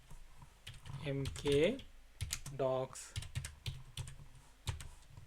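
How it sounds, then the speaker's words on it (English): A computer keyboard is typed on at a command prompt in short irregular bursts of clicks, while someone speaks over the keys. "Then I will type a command called"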